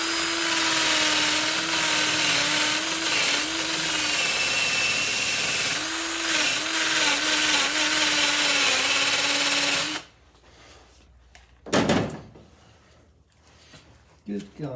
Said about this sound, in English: I'll just clean them threads out.